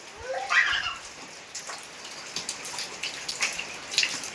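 Light monsoon rain patters softly with scattered drips, faint and steady throughout.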